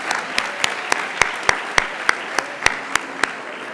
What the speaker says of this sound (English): everybody can give them a round of applause one more time